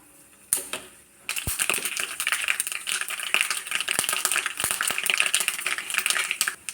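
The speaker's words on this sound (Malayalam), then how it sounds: "കടുക് പൊട്ടി" Mustard seeds popping in hot coconut oil for a Kerala village curry, sharp scattered crackles and pops over a continuous sizzle, close and fairly loud.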